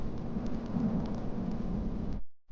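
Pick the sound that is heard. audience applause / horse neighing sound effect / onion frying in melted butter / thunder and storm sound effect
thunder and storm sound effect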